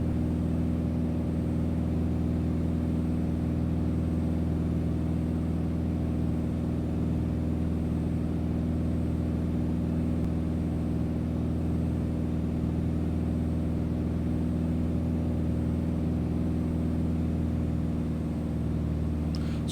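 A simulated A2A Accu-sim Bonanza piston aircraft engine in Prepared3D drones steadily in the climb after takeoff, a loud, even, low-pitched hum with strong tonal layers and no voices.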